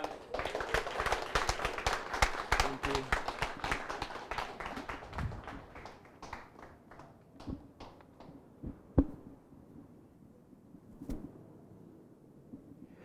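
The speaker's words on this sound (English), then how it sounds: "Round of applause for their vows." Wedding guests applaud after the couple's vows, a dense burst of hand clapping that is loud at first, then thins into scattered claps and a few final isolated ones over the following seconds.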